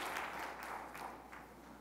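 A church congregation claps together in a brief, fairly faint burst of applause that rises and fades during a worship service, with no clear speech.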